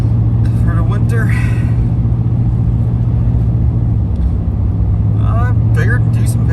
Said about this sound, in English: I got a truck this year. Let's have some fun with it. Just cruising some roads